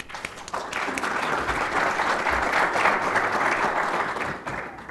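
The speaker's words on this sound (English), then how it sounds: "So just join me in a round of applause for welcoming the panel here this morning." An audience at an IoT industry conference in Belgrade applauds to welcome a morning panel, a full, sustained round of clapping that swells to a loud, dense peak and then tapers off near the end.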